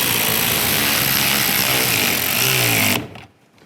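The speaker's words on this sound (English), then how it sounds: "tighten down the bolts" A power tool runs steadily and loudly on the side mirror bolts of a 2010-2016 Buick LaCrosse, a continuous whirring buzz for about three seconds before cutting off abruptly into quiet.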